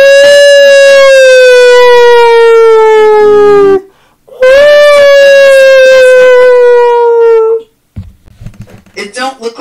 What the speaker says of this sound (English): Can you guys hear the tornado sirens?